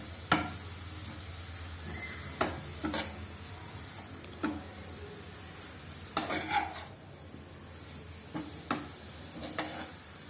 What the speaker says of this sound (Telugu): నెయ్యిలో వేగిన తర్వాత ఒక గ్లాసు పాలు పోసి ఉడికించాలి